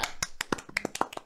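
Hand clapping: a quick, uneven run of about eight sharp, close claps over little more than a second, with nothing else around them.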